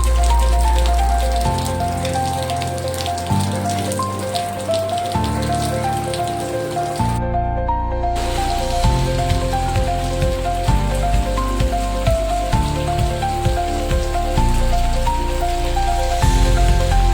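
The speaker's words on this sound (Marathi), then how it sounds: "फायनली पावसाला झाली सुरुवात आमच्या एरियामध्ये" The season's first monsoon rain falls in Powai, a continuous patter and hiss under background music with changing tones, briefly interrupted by a short gap partway through.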